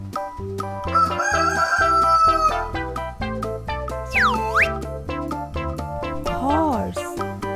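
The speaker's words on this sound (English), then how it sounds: "It's a rooster." A rooster crows clearly over a cheerful children's music backing track, with bouncy tones and a sliding whistle-like sound around it.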